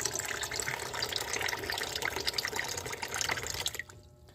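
Water runs from a water dispenser into a container, a steady close trickle and splash that stops abruptly near the end, no voices.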